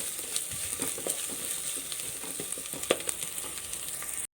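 Green chili sizzling as it is sautéed in a pan of hot ghee or oil for rice, a steady close frying hiss with small crackles and a few stirring scrapes, no voices.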